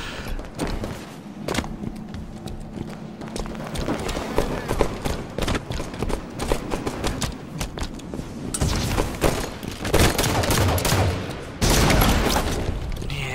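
Rapid gunfire and explosions from a SWAT match in Halo 5: Guardians, with dense bursts of shots and thuds running through the whole stretch and getting louder near the end.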